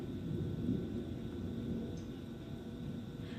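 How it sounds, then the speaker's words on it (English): Thunder from a storm outside rumbles as a steady, low, loud roll through the whole stretch, with a faint hiss of rain over it and no talking. "You hear the lightning? It's storming outside."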